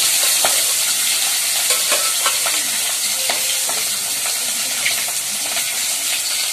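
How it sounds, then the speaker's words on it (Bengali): Vetki fish pieces fry in hot oil with a loud, continuous crackling sizzle, and many small pops and spits come throughout at close range. "আর এই যে মাছগুলোকে ভেজে নেব আমি।"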